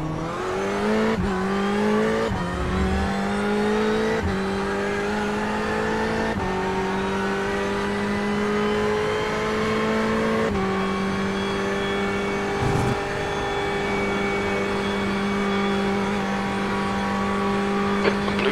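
LMP2 prototype race cars in iRacing at Spa roar past at high pitch. A steady engine drone climbs through gear changes and stays loud and close throughout, with no talk.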